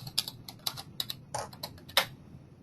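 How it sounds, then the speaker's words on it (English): Keys on a computer keyboard are tapped in a quick irregular burst while a password is typed, about a dozen crisp close clicks over two and a half seconds. "If I go ahead and type in my password,"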